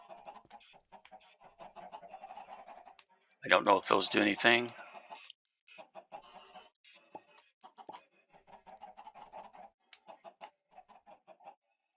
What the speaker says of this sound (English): See, these are both just gunpowder chickens here.